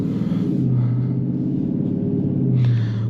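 A 2021 Dodge Charger Scat Pack with a Hemi V8 accelerates on the road, its deep engine rumble rising in pitch with steady harmonic drone, heard from inside the cabin.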